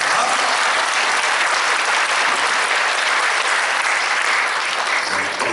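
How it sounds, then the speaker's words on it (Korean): A large audience at a theology forum bursts into loud, dense, sustained applause to welcome a professor to the stage, a continuous roar of clapping that holds steady throughout with no talking. "여러분 큰 박수로 환영해 주시기 바랍니다"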